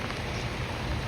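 Steady rain falls outdoors as a dense, even hiss without any break, quiet and diffuse with no voices over it.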